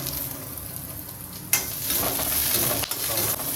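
Garlic and ginger frying and being stirred in a pan, a steady hiss of oil with a sharp burst of sizzle as the spoon moves, close and loud with no talking.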